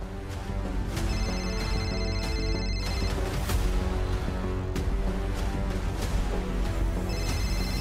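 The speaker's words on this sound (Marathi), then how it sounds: "मी भैरवीला फोन करते." A telephone rings with a repeating electronic ringtone during a phone call in a Marathi TV serial scene. The tone pulses steadily and fairly loudly throughout, with no talking.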